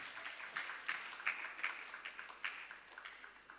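Scattered applause at a junior school graduation ceremony in 2025, a loose patter of claps with irregular peaks, fairly quiet and distant, with no talking over it.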